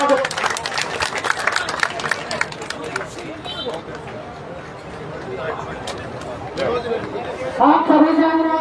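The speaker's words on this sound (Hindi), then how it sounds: "एक बार जोरदार तालियों से स्वागत करूंगा सभी सम्मानित साथियों का" A crowd at a protest sit-in near a toll plaza in Gurugram applauds to welcome guests, dense clapping mixed with crowd hubbub and voices, easing midway before louder talk rises near the end.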